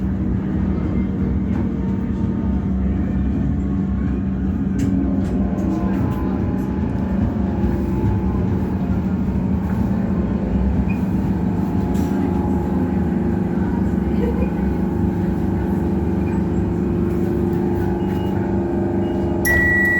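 A train sits at a Melbourne railway station with a steady low engine and motor drone, faint rattles and a few clanks under the continuous rumble, heard close and steady for twenty seconds.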